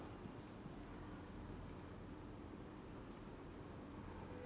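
Pen scratching across paper while writing out a physics result in a class, a steady continuous scratch over faint broadband background noise, with no voices.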